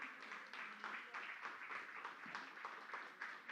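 Faint, steady applause from a church congregation during a service, a continuous wash of clapping with slight swells and no clear breaks over a few seconds.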